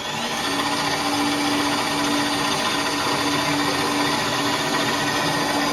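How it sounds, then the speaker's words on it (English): A continuous whirring power drill runs steadily at high speed, boring a small hole in a workpiece, loud and close, with a constant hum and no pauses. "you can drill a small hole in the pieces that are going to meet together"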